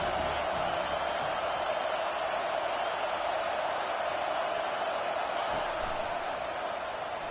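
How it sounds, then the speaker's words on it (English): A football stadium crowd roars in a steady, broad wash of noise that stays at an even level throughout, with no single voice standing out. "This crowd trying to make life miserable for this offense."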